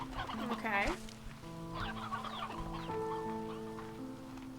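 The Elder Hen, a chicken in the video game Slime Rancher 2, gives a short clucking call near the start, followed by soft game tones and music.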